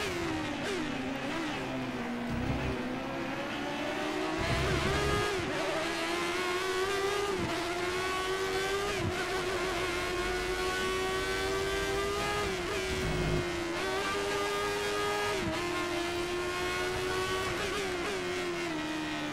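Formula One race car engines in the F1 2013 video game, a 1988 Spanish Grand Prix: a continuous high-pitched engine whine rises and falls with repeated gear-shift dips, loud and steady throughout.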